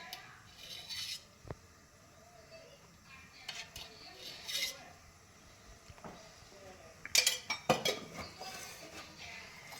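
A spoon clinks against a kadai on the gas stove as ghee is added, in scattered light taps and scrapes with a denser cluster of clinks toward the end, over quiet room background.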